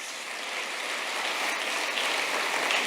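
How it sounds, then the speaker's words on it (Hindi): Audience applauding at a speech event, a dense, steady wash of hand clapping that builds slightly, with no voices over it. "हाथ ताली बजाओ यार।"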